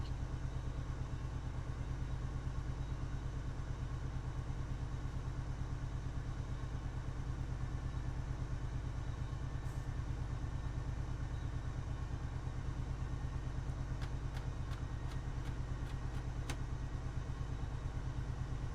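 A heavy diesel locomotive engine on an MBTA commuter train in the Train Sim World 5 game, Boston–Framingham line, rumbles in a deep, steady, bassy drone, with faint clicking ticks late on.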